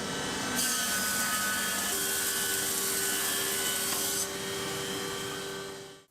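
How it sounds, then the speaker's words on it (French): Jointer and thickness planer working solid wood panels in a woodshop, a loud steady machine roar with broadband rasping as a board feeds through for about four seconds, then the motor runs on and spins down. "je repasse tous mes panneaux massifs à la dégo puis à la raboteuse"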